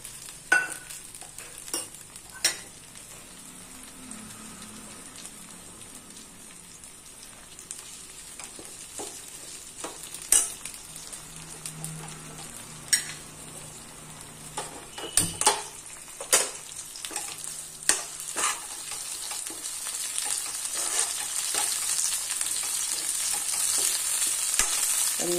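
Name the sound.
curry leaves sizzling as they fry in hot oil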